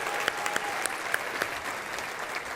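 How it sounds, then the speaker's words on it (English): An awards-night audience in a room applauds the nominees, a steady, moderately loud patter of many hands with a few sharper individual claps standing out. "please join me in giving a round of applause for all the nominees here in the room tonight"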